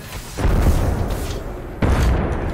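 Two heavy booming explosions in a video game, the first near the start and the second just before the end, each a loud low rumble with a sharp onset that trails off slowly.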